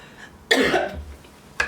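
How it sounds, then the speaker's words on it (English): A single harsh, loud cough burst close to the microphone, followed by quiet, then the start of another cough at the end. "Wouldn't be a reading if I didn't cough my lungs up."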